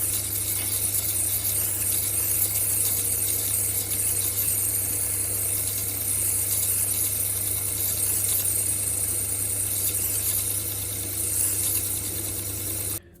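A faceting machine grinds facets onto an octagonal dichroic fused glass cabochon on a coarse grit lap, giving a steady motor hum under a continuous gritty rasp, close and fairly quiet.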